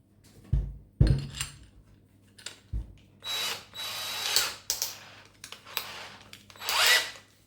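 A Parkside PSBSA 20-Li C3 20V cordless hammer drill is handled and run: a few sharp clicks and knocks from the chuck, then several short whirring bursts of the motor starting and stopping, close and fairly loud with no talking.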